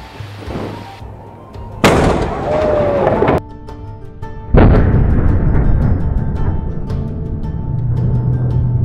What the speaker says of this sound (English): it's a sign that the gun will be fired in 15 to 20 seconds